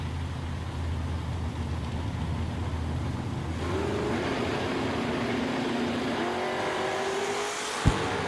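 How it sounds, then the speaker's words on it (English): Two drag race cars, a 1979 Chevrolet Monza and a 1967 Chevrolet Camaro, run side by side down a drag strip. Their engines make a loud, steady roar that builds about halfway through, and a sharp bang comes near the end. "Casey Allen, left lane, the 79 Monza."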